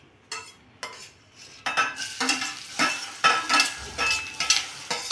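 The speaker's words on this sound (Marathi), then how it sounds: "त्याचे आपण पहिलं कांदो भाजून घेऊया." Onions fry in two spoons of oil in a kadhai on a gas stove: a steady sizzle punctuated by regular scraping spatula strokes that grow busier and louder, with no talking.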